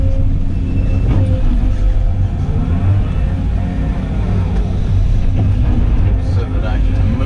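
A tracked machine crawls over mats at a minnow pond, producing a loud, continuous low engine rumble with grinding and clanking mixed in, heavy and close throughout.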